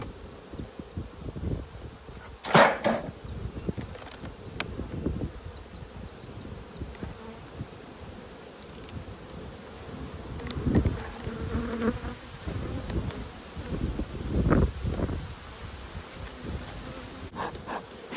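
Honeybees swarm around an opened hive during an Australian inspection, their continuous close buzzing filling the air, with occasional bumps and handling noises from the hive boxes.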